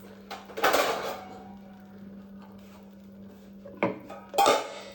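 A metal lid set onto a cooking pot in a home kitchen gives a clattering knock near the start and two more sharp clanks toward the end, with quiet kitchen hum between.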